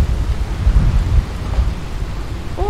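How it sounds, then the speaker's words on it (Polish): Thunderstorm with heavy rain in the video game Dying Light, a steady wash of rain under deep rumbling thunder that swells and rolls throughout, loud and close. "deszcz pada. Burza jest."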